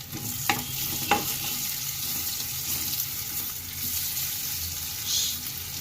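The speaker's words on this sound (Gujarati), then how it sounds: "ઢાંકણ લઈને પપૈયાના સંભારાને હલાવી નાખીએ" Papaya sambharo stirred in a pan on low heat, a soft sizzle running throughout with a couple of sharp utensil knocks against the pan early on, close and without talk.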